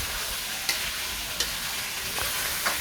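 Half a kilo of shrimp fries in oyster sauce with a steady, close sizzle, broken by a few sharp scrapes and clinks as the pan is stirred.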